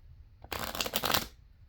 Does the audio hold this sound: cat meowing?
no